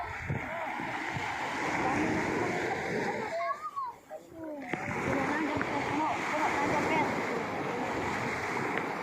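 Water splashes steadily into a bucket of freshly caught fish on a boat at sea, with a continuous splattering rush under wind and waves. It breaks off briefly midway, and people talk nearby.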